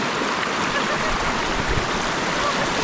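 Clean, cold creek water flows in a steady, full rushing wash, close and loud, with no break over the whole stretch.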